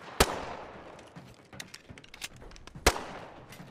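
Gunfire in a video game: two sharp, loud shots about two and a half seconds apart, with scattered fainter pops and clicks between them.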